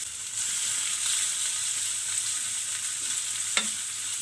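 Finely chopped onion frying in oil with mustard seeds, cumin and urad dal, a steady close sizzle and hiss running throughout with one brief clink near the end.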